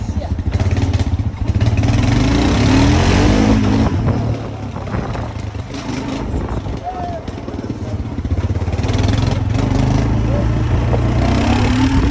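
A quad bike engine drones steadily during a ride, loud and close, with a rough, buzzing tone that swells and eases as the throttle changes.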